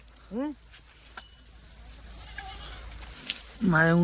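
Two Kathiawadi goats bleat nearby, one short cry early on and a louder, wavering bleat at the end, with quiet outdoor background in between.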